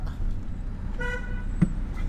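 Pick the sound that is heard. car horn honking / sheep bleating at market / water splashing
car horn honking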